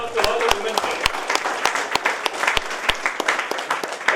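A conference audience at an International Women's Day event breaks into sustained applause, many hands clapping together in a steady, fairly close rhythm with sharp individual claps standing out.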